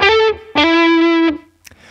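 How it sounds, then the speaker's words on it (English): Distorted electric guitar plays two hammer-on grace note phrases, each pair of notes fused almost into one, loud and sustained with a short gap between them, ringing out alone before dying away. "grace notes are 2 notes which are played as close together as possible so that they almost sound as one. An example here using hammer-ons sounds like this."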